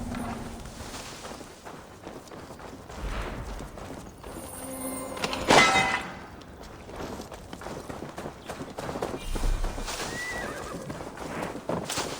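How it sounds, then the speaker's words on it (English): In Assassin's Creed Valhalla, a horse whinnies loudly mid-clip over a steady bed of ambient game sound, with hoofbeats clopping along at a moderate distance. "Now to deliver Magni his horse."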